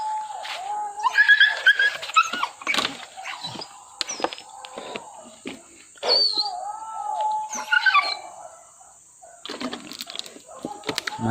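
Village dogs chasing a wild boar through savanna bring repeated barks and yelps, some close and some farther off, in irregular bursts with faint voices now and then.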